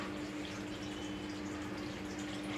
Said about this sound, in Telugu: వాటర్ పోసేసింది రవ్వ.